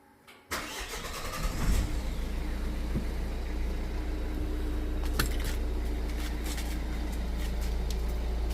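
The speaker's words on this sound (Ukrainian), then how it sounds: "Зараз треба запустити двигуна" A car engine cranks and catches after a brief quiet moment, then settles into a steady, loud idle for the rest of the stretch.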